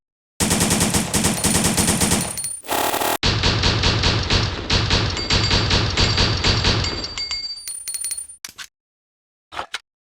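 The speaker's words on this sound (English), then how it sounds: "So now let's test out the CZ75 in game." CZ75 handgun fired in rapid succession in Resident Evil Survivor, a dense, loud string of quick shots with metallic ringing, a brief pause, then more rapid fire tapering off, with a couple of isolated clicks at the end.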